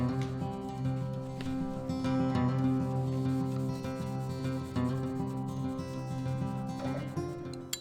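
Barkeeper's Friend is scrubbed across the rusty metal body of a hand plane, a continuous close rubbing and scouring with faint tonal hum and light clicks throughout, no voices.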